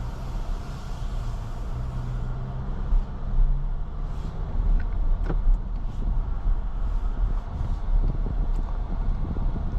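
A 2026 Infiniti QX60 Luxe driving on the road gives a steady cabin hum of road and wind noise, with a low engine rumble that rises slightly and occasional faint clicks, heard from inside.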